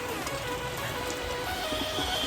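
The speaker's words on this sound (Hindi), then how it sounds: "काम करते करते बारिश आ गई है" Steady rain patters on a surface in a village, a dense continuous hiss with scattered drops and no voices.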